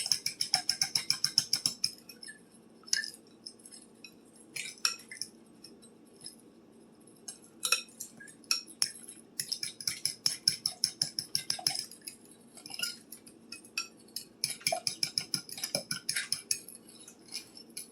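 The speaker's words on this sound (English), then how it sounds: "you're going to beat it, mixing the spices with the eggs" Metal utensil rapidly beating eggs with about a tablespoon of cinnamon and spices in a bowl, quick bursts of close clinking whisk strokes with short pauses between, no talking.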